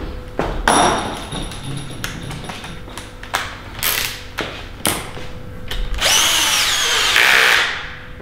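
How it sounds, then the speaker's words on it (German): A cordless drill-driver whirs in short bursts while the engine of a 2019 Audi RS4 saloon is assembled in a workshop, with loud mechanical clicks and clatter between runs and a longer high whine near the end. "Wo ist denn mein Akkuschrauber?"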